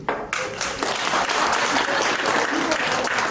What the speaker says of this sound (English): clap if you don't own property